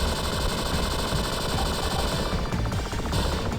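Homing-shot weapon fire in the Blaze of Storm shooter, a loud, continuous rapid stream of machine-gun-like shots with a steady, fast rhythm and no speech.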